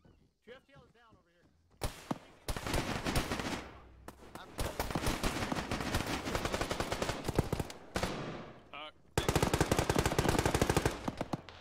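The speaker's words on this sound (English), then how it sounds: "I think one of the AAVs is shooting at us." Machine-gun fire from an AAV amphibious vehicle in a military shooter game rattles in rapid, loud bursts, with short gaps and faint voices near the start.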